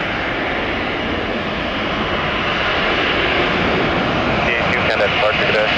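An Embraer jet takes off from runway 3 left at Detroit Metro Airport, its engines producing a loud, steady roar and broadband rush that holds throughout, with a faint radio voice over it.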